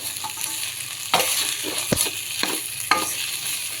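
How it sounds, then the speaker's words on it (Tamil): Dried turkey berries with cumin and fennel sautéing in a pan, giving a steady crackling sizzle with a few sharp scrapes of stirring, close and moderately loud with no talk. "நம்ம போட்ட இந்த சீரகம் சோம்பு எல்லாமே வதங்கிடுச்சு"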